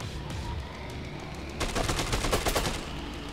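Gunfire in the video game Dead Rising 2: after a quieter stretch, a rapid burst of repeated shots rattles out at a fairly low level, continuing to the end with no talking.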